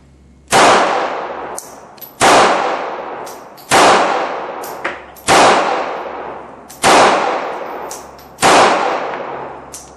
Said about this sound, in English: I actually just shot all 6